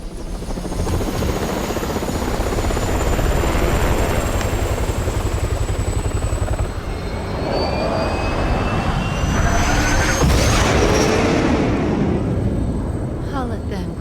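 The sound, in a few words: helicopter in video game Resident Evil 6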